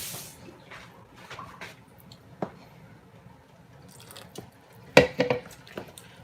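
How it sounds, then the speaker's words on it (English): Thin liquid poured in a soft trickle into thick, simmering gravy for Salisbury steak, with drips and small splashes that grow louder near the end, heard alone without talk. "I'm gonna add me a little bit more liquid to that."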